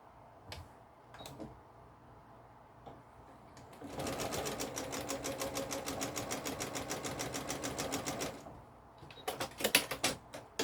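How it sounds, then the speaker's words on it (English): Sewing machine stitching a flying geese quilt block, running at a steady whir for about four seconds between quieter handling noises and a few sharp clicks near the end. "I'll just sew this on real quick"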